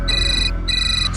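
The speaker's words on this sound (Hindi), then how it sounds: "यार सेम नंबर से फोन आ रहा है।" A phone ringtone trills in two bursts with a short gap between them, loud and near, the tone bright and electronic over a low background hum.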